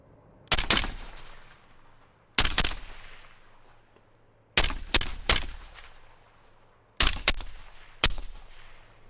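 Gunshots from a handgun fitted with a Votatu M9L-G mini laser light crack out sharply in close, irregular bursts of single and double shots, each with a brief ringing decay outdoors.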